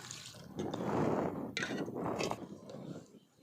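Splashing and swishing of coriander leaves being rinsed in a bowl of water, close by, with soft dripping.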